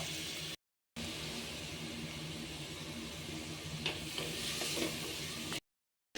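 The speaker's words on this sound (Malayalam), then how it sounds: "അപ്പോൾ ഇത് ഇത്തിരി ഉപ്പും കൊണ്ടിട്ടൊന്ന് വഴറ്റിയിട്ട് വന്നിട്ട് നമുക്ക് ബാക്കി ചേർക്കാം" Onions sautéing with a little salt in a pan for biryani give a steady low sizzle with soft stirring and scraping, close and continuous, cut by two brief gaps of silence.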